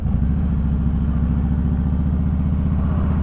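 Motorcycles lined up at a bike blessing, a close, loud, steady idling engine chug with a rapid regular beat.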